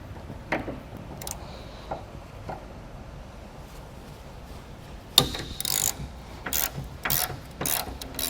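A ratchet wrench backs out the rear hinge bolts on a Jeep tailgate fitted with MORryde heavy-duty hinges. A few isolated clicks come first, then loud, close bursts of rapid ratcheting toward the end, with no speech.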